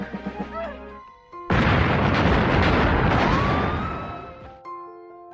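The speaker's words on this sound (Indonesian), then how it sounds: "terjadi sebuah ledakan yang membuat Mickey terlempar dan Jackie hampir terpanggang" Big explosion in the 1997 action film Mr. Nice Guy, a sudden loud roaring blast with a long rumbling tail that fades out over several seconds, following a brief stretch of voices and sound effects.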